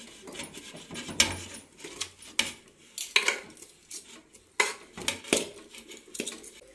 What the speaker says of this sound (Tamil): இப்போ இதில் பாசி பருப்பு ஆட் பண்ணிக்கலாம்.